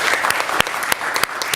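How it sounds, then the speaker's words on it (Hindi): Applause from a theatre audience for young actors performing a play, a dense patter of clapping with a few sharper claps standing out, steady and fairly close throughout. "जोरदार ताली से उनका इस्तेमाल करें"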